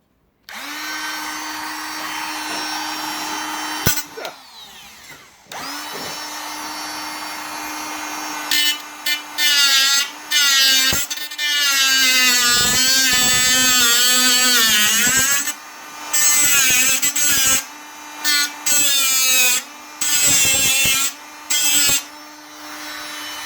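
A small angle grinder on a Ford Cortina MkV body restoration gives a sustained high whine that spins up, runs, then cuts into metal in repeated loud bursts with short pauses between them.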